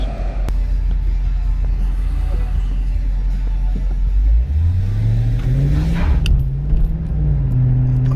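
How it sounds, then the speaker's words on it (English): A car pulls away hard on a wet road, its engine rising in pitch as the tyres spin and lose grip, a steady close rumble throughout with the revs climbing and falling. "we'll try a little bit slower acceleration and do another pull and see how that goes"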